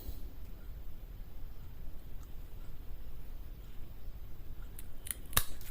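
Scissors snip Kalanchoe blossfeldiana leaves: faint quiet background, then a few sharp close clicks of the blades near the end.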